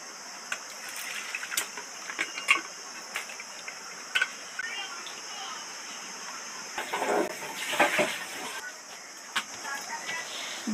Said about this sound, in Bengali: এবার এই জলটা ফেলে দেবো ছেঁকে।